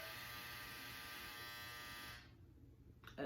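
A handheld hair dryer runs with a steady, loud whine and airy hiss for about two seconds, then cuts off, leaving near silence broken by a faint click.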